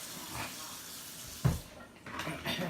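Kitchen tap water runs in a steady hiss for about a second and a half, then a knock is heard as the flow is shut off, with faint clatter after.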